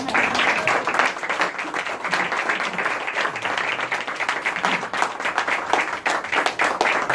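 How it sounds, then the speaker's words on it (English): An audience at a living-room magic show claps loudly and steadily for the full stretch. The applause stays dense and close, with a few faint voices underneath. "Big round of applause for Charlie over here."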